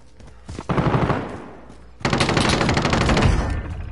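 Bursts of automatic gunfire in Call of Duty Warzone, loud and close: a short rattling volley, a brief lull, then a longer sustained stream of rapid shots.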